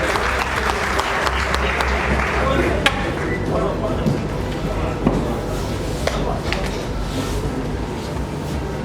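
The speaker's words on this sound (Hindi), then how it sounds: "जोरदार तालियों के साथ उनका स्वागत" An audience at a Chamber of Industries and Services event in Saharanpur breaks into sustained, dense clapping to welcome a guest onto the stage, with a few sharper claps standing out across the whole stretch.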